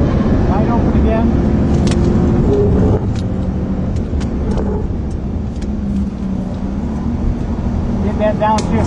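A 2009 Cadillac CTS-V V8 engine at wide open throttle during final testing roars loudly from inside the car, easing off for a moment mid-clip and then pulling hard again, with someone talking over it.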